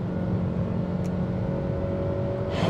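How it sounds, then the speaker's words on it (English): A Nissan Rogue Sport's 2-liter four-cylinder engine at full throttle, a droning, strained hum heard from inside the cabin that stays loud and nearly level throughout. "Power from the 2-liter 4-cylinder engine is modest. Here, floored."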